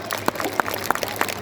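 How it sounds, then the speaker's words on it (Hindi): An audience claps for a choir group in a few distinct, spaced sharp claps rather than a full ovation, moderately loud against a quiet room. "सर श्याम और आपके क्वायर ग्रुप के लिए एक बार फिर से जोरदार ताली हो जाए।"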